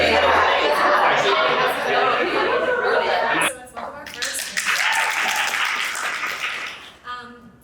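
A book festival panel audience cheers and claps, a dense burst of applause and crowd chatter up front that gives way to livelier, scattered clapping and murmuring voices, fairly close and loud throughout.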